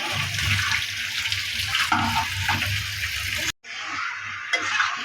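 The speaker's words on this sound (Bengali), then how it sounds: "পানি দিয়ে দিই সবজি দিয়ে দিতেছে" Water poured into a pan of mixed vegetables (cauliflower, beans, eggplant, potato, radish, turnip) cooking in a home kitchen, a steady loud frying hiss with stirring that cuts out briefly near the end, then resumes.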